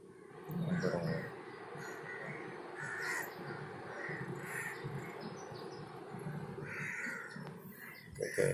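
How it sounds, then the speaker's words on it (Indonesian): Crows caw repeatedly outdoors, several harsh calls rising above a steady bed of background noise and faint distant chirps. "gagak ini sangatlah rakus ya."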